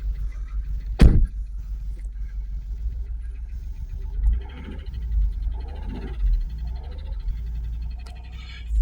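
A Jaguar XKR with a suspected failed plug or coil pack fires up with a sharp crank burst, then idles roughly with a low uneven rumble and periodic stumbles, close and steady with no talking.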